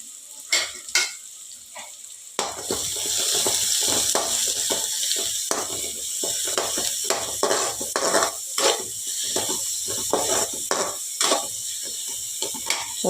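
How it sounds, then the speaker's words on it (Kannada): Sliced onions frying in a pan for green pea paratha filling: a steady close sizzle with repeated scraping stirs and light utensil knocks against the pan, quieter for the first two seconds before the hiss swells. "ಈರುಳ್ಳಿ ಹಾಕಿ ಸ್ವಲ್ಪ ಫ್ರೈ ಮಾಡಿಕೊಳ್ಳಿ"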